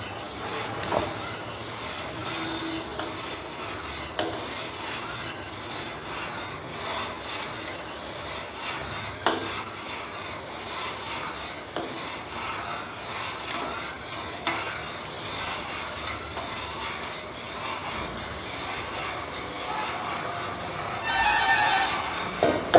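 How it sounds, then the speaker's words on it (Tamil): Pearl millet (kambu) porridge is stirred continuously in a pot, giving a steady scraping, rubbing sound with occasional sharper knocks of the spoon against the vessel, close and unbroken for the whole stretch. "கொஞ்சம் கொஞ்சமாக போட்டு போகணும் கை விடாமல் கிளறணும் அப்போ தான் கட்டி பிடிக்காது"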